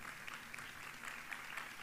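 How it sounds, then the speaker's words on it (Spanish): Crowd at a provincial stew festival in El Pingo applauds a music group's tribute, a steady wash of clapping heard at moderate distance with no talk over it. "Fuerte ese aplauso."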